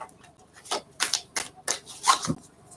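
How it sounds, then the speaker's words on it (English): Several quick papery riffles and soft slaps of tarot cards being shuffled by hand, in short bursts with brief pauses between, close and fairly quiet. "We'll do one more shuffle."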